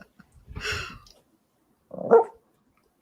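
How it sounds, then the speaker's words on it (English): A small dog gives two short, separate woofs, one after the other, close by in an otherwise quiet room. "Her little woof."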